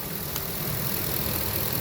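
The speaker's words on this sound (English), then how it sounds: "I can sit here, I can hear the ticking of the injectors" An RV motor home's engine idles in a steady, even drone, with a faint fine ticking from the injectors under the hum; no one speaks.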